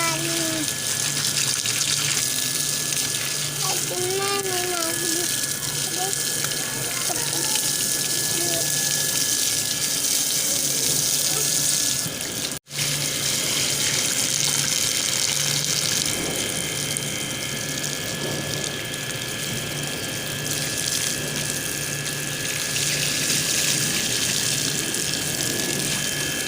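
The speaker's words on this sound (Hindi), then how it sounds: "पानी को खेलते मुझे बहुत मजा आता है।" Water runs steadily from a tap in a continuous gushing stream while a child plays nearby, with voices occasionally heard over the flow.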